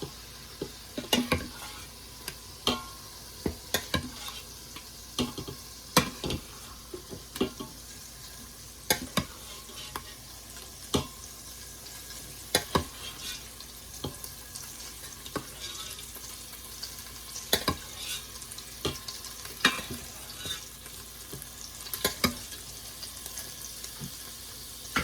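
Meat sizzles and fries in a hot pan, with repeated sharp scraping clicks of a utensil stirring it at a steady, close pace throughout, no talking.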